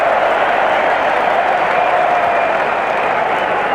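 A stadium crowd at a 1999 AFL football match between Brisbane and St Kilda cheers and applauds in a steady, dense roar that holds loud and unbroken throughout.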